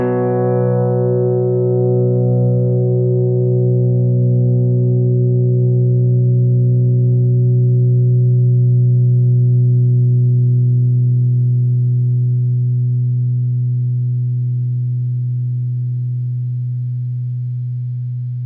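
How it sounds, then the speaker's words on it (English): Single guitar note through a Boss CS-3 Compression Sustainer pedal at maximum, held steady and loud for the whole stretch, barely decaying, with upper overtones fading slowly while the fundamental sustains. "Now listen to how long the sustain will go on without bending any notes with the pedal on at max."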